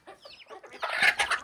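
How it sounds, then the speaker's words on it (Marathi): Farmyard chickens clucking in short, irregular bursts, fairly close and soft, with a livelier run of calls toward the end and no talk. "मला फक्त कोंबड्यांचाच आवाज येत असेल"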